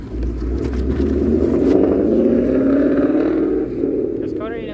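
A Ford Mustang S197 on a club cruise of six Mustangs accelerates, its engine a loud, steady low rumble that swells and holds close by, with voices talking over it.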